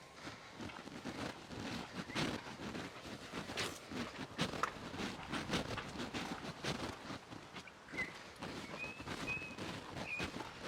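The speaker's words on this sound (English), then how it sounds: "it's a really windy day today." Wind gusting steadily through an outdoor garden on a very windy day, a continuous broadband rush with rising and falling gusts and faint rustling, with a few brief whistle-like tones near the end.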